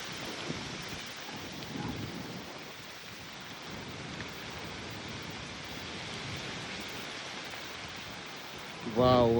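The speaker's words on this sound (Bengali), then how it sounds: "দেখো কেমন ঝড় হচ্ছে, দেখো সেই হাওয়া দিচ্ছে, আর তার সাথে ঝিরঝির করে বৃষ্টি পড়ছে" A storm blows with gusty wind and light drizzling rain, giving a continuous broad rushing noise that swells slightly near the end.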